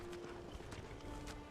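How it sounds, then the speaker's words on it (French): A horse's hooves thud in quick, regular clip-clop steps in the Skyrim video game, steady and fairly close over a low ambient hum. "Je prends mon cheval et on est y part."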